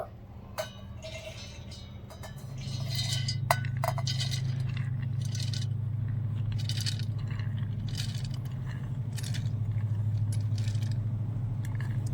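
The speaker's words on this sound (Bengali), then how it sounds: "এবারে এই মিক্সির জারের মধ্যে ডালটা নিয়ে নেব" Soaked biulir (urad) lentils go into a mixer grinder jar with scattered light clinks and clatters over a steady low hum, and no one speaks.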